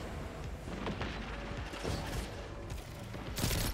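Rapid bursts of pulse rifle fire from the Insidious raid pulse rifle in Destiny, repeating through a dense, busy game mix with explosions and effects layered over it.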